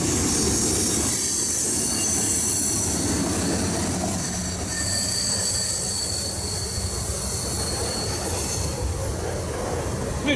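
A BNSF freight train rolls past at Carkeek Park on the Scenic Sub, a loud, continuous roar of wheels and rail noise with squealing and clatter that stays close for the whole stretch.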